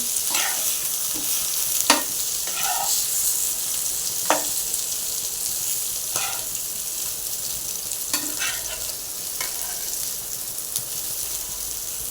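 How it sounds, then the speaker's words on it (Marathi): Bangda (mackerel) fish frying in a pan over a medium flame, a steady sizzle running throughout with a few sharper crackles and pops scattered across it. "मिडियम फ्लेमवरच त्याला चांगलं असं भाजून घ्यायचं तळून"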